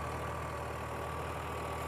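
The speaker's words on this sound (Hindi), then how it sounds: "ये ट्रैक्टर भी हाई फर्स्ट में चल रहा है" Sonalika DI 35 tractor engine pulling a hydraulic reversible two-bottom plough in high first gear, a steady low droning rumble that holds constant and fairly subdued throughout, with no talking.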